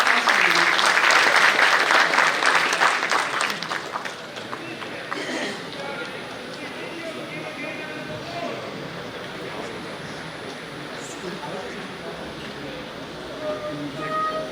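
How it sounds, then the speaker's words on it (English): An audience at a tech conference claps in a dense burst that tapers off within a few seconds, followed by quieter room noise and a speaker talking. "can we have a round of applause?"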